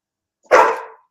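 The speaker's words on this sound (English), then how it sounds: "Now my dog want to chime in." Dog barks once, a single sharp, loud, close bark that trails off quickly after a moment of silence.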